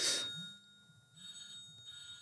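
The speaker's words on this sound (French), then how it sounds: "Bon, ça c'est mon téléphone." A phone rings faintly in a quiet room, with a brief louder burst at the start and a soft repeating ring tone continuing after it, and no one speaking.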